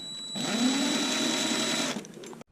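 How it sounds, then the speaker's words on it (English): A clamp being tightened on a Progressive Industries EMS-HW30C electrical management system gives a steady, close motorized whir lasting about a second and a half before cutting off, followed by a short, quieter rattle. "And now I'm tightening the clamp here."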